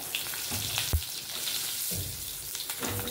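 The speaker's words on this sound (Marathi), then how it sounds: "अर्धा चमचा हळद टाकूया, थोडंसं हिंग टाकूया, कढीपत्ता टाकलाय" Turmeric, asafoetida and curry leaves hit hot oil in a pan for a spicy Satara-style black bean curry, giving a steady close sizzle with a few sharp pops and a utensil knock.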